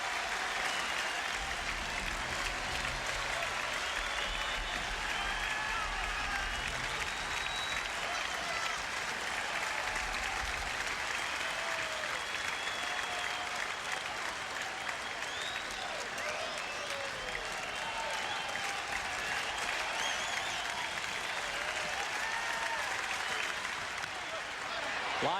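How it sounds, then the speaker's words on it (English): Big standing crowd at a Fenway Park afternoon baseball game, Rangers at Red Sox, cheering and clapping in a sustained roar awaiting the final out, with a broadcaster talking over it throughout. "this big crowd for this matinee at Fenway, standing in anticipation of the final out"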